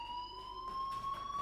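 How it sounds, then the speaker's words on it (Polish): A fire alarm rings in the Life is Strange video game, a steady high electronic tone sounding continuously and fairly faint throughout. "Do you hear that fire alarm?"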